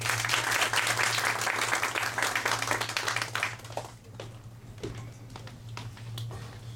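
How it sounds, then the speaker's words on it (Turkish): Audience applause at an international piano festival, dense clapping that fills the hall for about three seconds and then thins into scattered claps. "Alkışlarınızla sahneye Derin Dönmez'i davet ediyorum."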